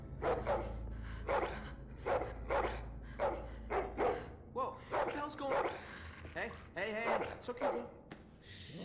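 A dog barks repeatedly in The Walking Dead video game, a rapid series of sharp barks close by, followed by gasps, whimpers and a voice speaking.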